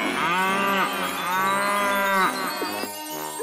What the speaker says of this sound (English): Can you echo back the sound of the cows, Mr. Echo?